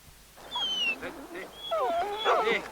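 A basset hound whimpers and whines in a high, wavering series of cries over a steady background hiss, with moderate loudness and some yelping inflections.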